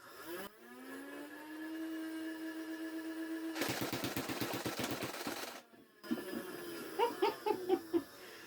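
A Nerf Ultra Speed flywheel blaster whines as its motors spin up, then fires a rapid burst of darts at about seven per second, a loud buzzing rattle, followed by a few single shots and laughter.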